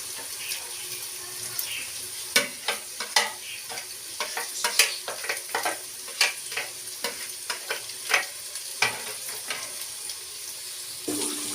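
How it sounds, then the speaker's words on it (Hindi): Green chillies sizzle in a pan as a spoon stirs them, with many rapid clinks and scrapes over a steady hiss of frying, close up and lasting throughout. "अब इसको मैं चम्मच के साथ हिला देती हूँ"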